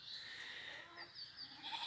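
Sheep bleating at a distance on former olive-grove land, high wavering cries drifting over a steady outdoor background hum.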